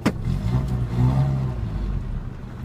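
A 1993 Nissan truck engine revs unevenly in gear as if about to stall, a low rumbling drone that swells and sags up close, with no talk over it.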